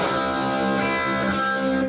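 A distorted electric guitar plays a short riff of sustained, overdriven notes with brief gaps, loud and close, no voices.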